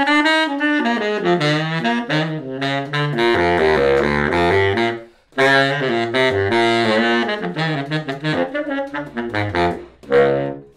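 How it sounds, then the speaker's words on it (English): A baritone saxophone with its stock kit mouthpiece plays alone and up close. Phrases of deep, reedy notes shift between low and mid pitches, with one brief pause partway through. "This is the kit mouthpiece, and it sounds like this."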